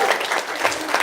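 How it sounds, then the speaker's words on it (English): A crowd at a candidates' forum gives itself a short burst of applause, dense clapping that stays steady and close. "So give yourselves a round of applause"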